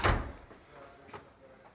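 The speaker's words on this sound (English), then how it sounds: "Just check that the door closes" A door fitted with a Door Armor reinforcement kit swings and shuts with a single solid knock near the start, followed by faint handling noises and a light click.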